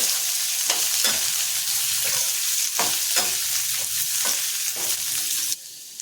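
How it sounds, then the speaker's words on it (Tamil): Sliced ridge gourd sizzles steadily in a hot pan for chutney while a spoon stirs and scrapes it at regular intervals, close and continuous. "நல்லா வதங்கட்டும்"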